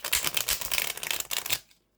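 A small-size Gentle Tarot deck shuffled by hand, a dense, continuous papery riffling of cards close up for about a second and a half, then stopping abruptly into quiet.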